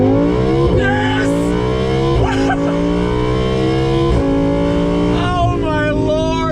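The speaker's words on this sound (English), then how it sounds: "we're in first gear. I just want to do a little acceleration test on throttle." A 2018 Audi R8 V10 Plus Spyder accelerates hard in first gear, its loud engine howl climbing steadily in pitch, dropping sharply at each shift, then climbing again, close and continuous throughout.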